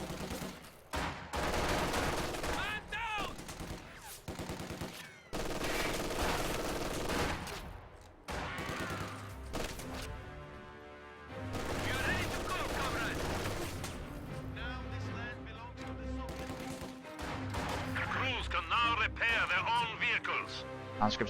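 Machine gun fire and battle noise in the Company of Heroes real-time strategy game, with bursts of rattling shots and explosions mixed under steady commentary from a caster.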